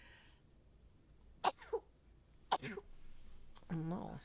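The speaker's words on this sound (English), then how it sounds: "That was a sneeze." A few short, sharp bursts from a person, like a sneeze followed by smaller sputters, fairly close in an otherwise quiet room.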